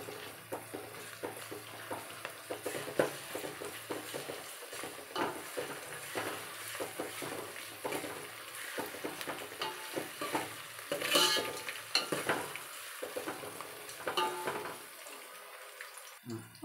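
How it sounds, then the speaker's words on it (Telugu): Onions frying with ginger garlic paste for Telangana bhagara rice, stirred steadily in the pan: a continuous close sizzle with frequent scraping strokes and a few louder clanks, and no voices over it. "ఉల్లిగడ్డలు కొద్దిగా వేగాక అల్లం వెల్లుల్లి పేస్ట్ వేసి బాగా కలుపుకోవాలి."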